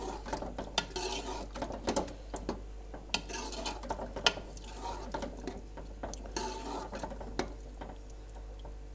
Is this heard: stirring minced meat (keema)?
yes